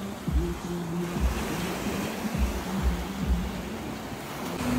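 Ocean surf rolls onto Salybia Beach in Trinidad, a continuous broad wash of moderate waves with soft periodic thumps underneath, close and fairly loud, with no voices.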